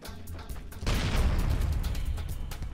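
A grenade explodes in Fallout: New Vegas with a sudden, loud, close boom, and a dense crackling, rumbling wash follows and fills the rest of the moment, with no talking.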